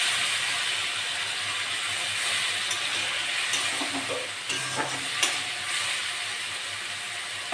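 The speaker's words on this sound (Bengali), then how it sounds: "মশলাটা কষার জন্য একটু জল দিয়ে দেবো" Masala spices with a splash of water sizzle steadily in an oiled pan while being stirred, with a few scraping clicks from the spoon against the pan.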